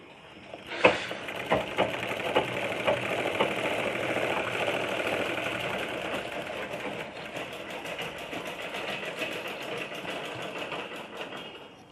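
Sewing machine running steadily while stitching the seam of a lungi (sarong) cloth, a continuous close mechanical whirr with a few sharper clicks near the start and no talk.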